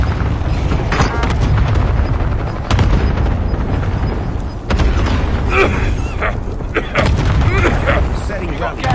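Booming airstrike explosions from a cluster strike in an online shooter battle royale, several heavy blasts and rumbling impacts rolling one after another, loud and close, with game radio voices calling out over them.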